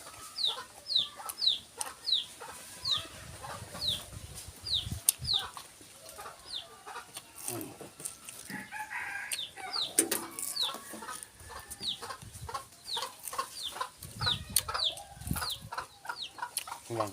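Chickens clucking in a natural outdoor setting, a steady run of close, repeated clucks and short chirps over soft background noise, with no clear crowing.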